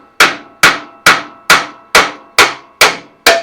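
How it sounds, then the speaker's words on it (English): A hammer pounds on the starter Bendix of a 1948 John Deere Model A tractor, with eight loud, sharp metallic strikes in a steady rhythm, each ringing briefly before the next, close up with no talking. "I hate to pound on the Bendix"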